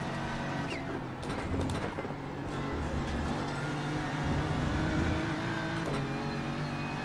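A race car engine drones and revs continuously in the iRacing sim racing game, with a buzzy, high-pitched tone that rises and falls slightly over a steady mechanical bed, up close and without speech.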